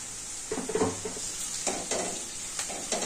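A spoon scrapes and stirs in a pan of sizzling oil as turmeric goes in for coconut poha, with a steady hiss of frying under a few clusters of clinking, scraping strokes, close and clear.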